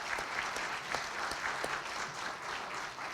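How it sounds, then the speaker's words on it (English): An audience at a school district address breaks into sustained applause, a thick continuous patter of many hands with a few sharper claps standing out, heard from a moderate distance without speech. "So that deserves a huge round of applause."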